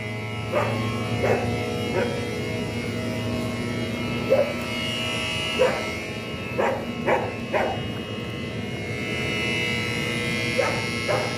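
A dog barks in short, separate bursts at the Mexico–US border, fairly distant, over a steady background hum and murmur.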